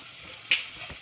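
Potatoes frying in a pan give off a soft steady sizzle with a short brighter crackle partway through, likely as they are stirred, and nobody speaks.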